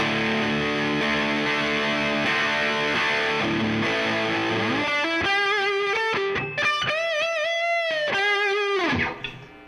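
Electric guitar played through the distortion channel of an Orange Crush Pro 120 amplifier: loud, saturated sustained chords, then a run of separate, bending notes that cut off abruptly near the end.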